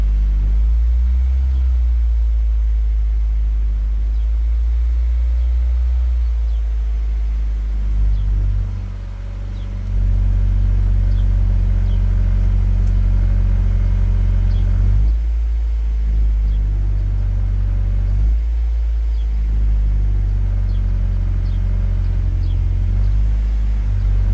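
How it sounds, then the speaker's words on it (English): A Honda engine runs after a throttle position sensor calibration, its RPMs climbing. A steady, loud, close engine rumble continues throughout with slight rises and dips in revs. "But RPMs are still increasing, it's not bogging or feeling weird"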